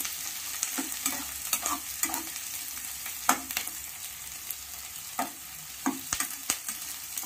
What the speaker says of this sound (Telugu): దోరగా కొంచెం ఎర్రడాలు వచ్చేలా ఉల్లిపాయ వేయాలి.